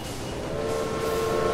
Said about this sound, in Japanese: お、これで貨物列車を追い抜いていきますね。